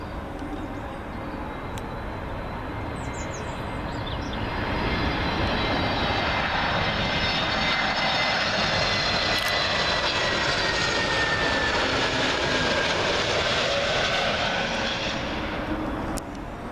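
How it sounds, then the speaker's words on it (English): An Aer Lingus Airbus A321neo arriving from Shannon passes low over the approach to Heathrow's runway 27L, its jet roar swelling from a distant rumble to a loud sustained wash before easing off as it moves away. "Up next will be an Aer Lingus A321neo, and this one's coming from Shannon"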